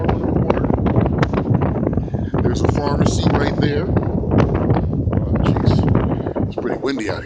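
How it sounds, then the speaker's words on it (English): Gusty wind buffets the microphone on a New York City street at night, a steady loud rumble running throughout with voices talking over it. "pretty windy out here"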